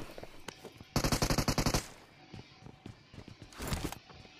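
Automatic gunfire from the mobile battle royale game BGMI, with one sharp burst of rapid shots followed by scattered single shots and a second, fainter burst, and light footsteps in between.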